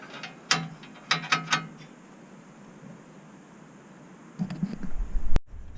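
Ratchet wrench fitting four bolts during a Land Rover Discovery 2 wheel bearing change: two short bursts of crisp, close pawl clicks, then a quiet pause and some clunking handling at the end.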